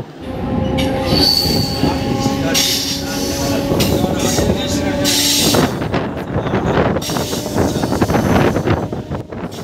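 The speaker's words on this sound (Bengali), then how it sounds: "ট্রেন ছেড়ে দিয়েছে" Medinipur First local train pulling out and running, a loud continuous rumble of wheels and carriages with a steady tonal whine and squeal early on, then rougher clattering rail noise, close and sustained throughout.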